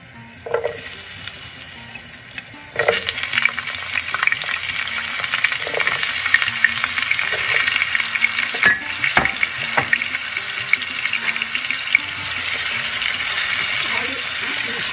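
Potatoes frying in oil in a home kitchen: quiet at first, then a loud sizzle as they go into the pan, held steady under light stirring and scraping, with a faint voice now and then.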